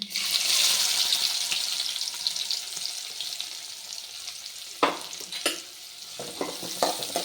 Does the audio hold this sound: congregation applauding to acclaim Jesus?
no